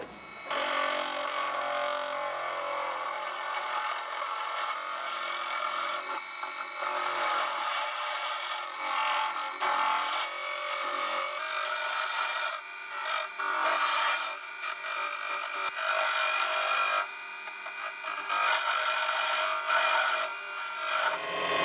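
A wood lathe turning a tenon on a birdhouse blank held between centres, with the tool scraping and rasping continuously against the spinning wood, loud and close, with brief changes in pressure and no talk.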